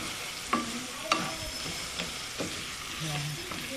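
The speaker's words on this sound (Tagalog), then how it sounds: "Haluin natin kasama ng ating pork." Pork stirred and fried in a pan gives a steady sizzle broken by several clanking scrapes of a spoon against the metal, two of them sharp and loud, with a faint voice briefly in the background.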